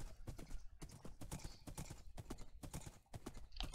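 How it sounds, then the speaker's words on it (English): Horses in the Minecraft video game trot with quick, repeated clip-clop hoofbeats, crisp and close, running steadily throughout. "And horses, got lots of more horses."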